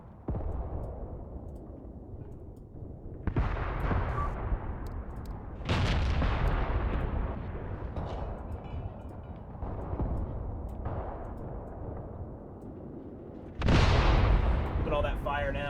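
Mortar fire in the war game Graviteam Tactics: heavy booming blasts land at irregular intervals, three standing out loudest, with a rumbling barrage of gunfire and explosions rolling on between them.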